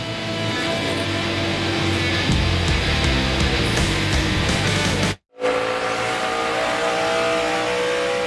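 NASCAR Nationwide Series race cars roar around Gateway International early in a 200-lap race in 2010: loud, sustained engine drone with rising and falling revs, broken by one brief cut.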